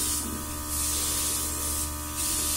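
Steady airbrush hiss as bronzer makeup is lightly sprayed onto a face, a continuous soft spray with faint pulsing over a low hum, no talking.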